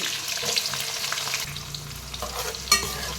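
Onion and green chilies with cinnamon and cloves frying in a kadai for chicken curry, giving a steady close sizzle with scraping stirs and a sharp clank near the end, no voices.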